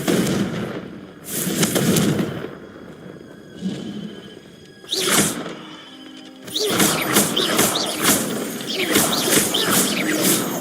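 Confringo blasting spells go off in Hogwarts Legacy as a run of loud, sharp explosive bursts. Two heavy blasts open the sequence, then a pause and another hit, and finally a dense, crackling string of rapid detonations.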